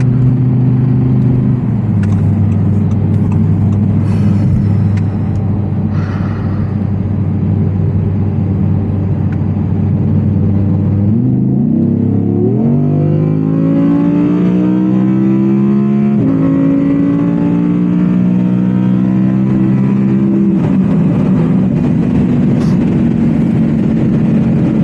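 A 2023 Audi R8 V10 Spyder with a naturally aspirated mid-mounted V10 revs loud and close, holding a steady drone, then climbing through gear after gear with rising howls, with no talking.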